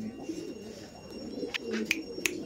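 Pigeons coo softly nearby, their low, rolling calls overlapping under faint background noise, with a few brief higher chirps and clicks toward the end.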